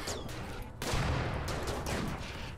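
Turret gunfire in the colony game RimWorld, a loud, dense volley of rapid shots that keeps going for a couple of seconds without speech.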